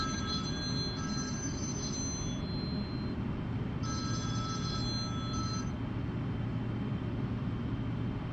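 A telephone rings inside a Boeing 777F flight simulator cockpit during a game, two trilling bursts about four seconds apart over a constant loud engine drone.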